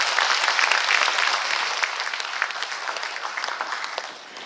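An audience in a culture and arts hall applauds after a provincial official finishes a speech at a Gangwon Special Self-Governing Province briefing, with dense sustained clapping that slowly tapers off.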